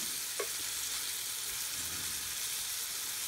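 Breaded chicken nuggets fry in a pan with a steady, close sizzle that hisses on evenly for the whole stretch, with one brief clink near the start and no voices.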